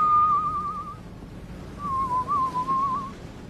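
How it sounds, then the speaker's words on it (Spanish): A man whistles a slow, wavering tune in a film scene about Noah's Ark. There are two clear phrases with a short pause between them, close and alone with no speech. "Por eso silbo."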